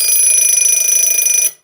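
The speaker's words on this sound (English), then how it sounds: "Let's hear the alarm on this." An antique mechanical alarm clock, wound with an improvised key from another clock, rings in a loud continuous metallic trill for about one and a half seconds, then stops abruptly.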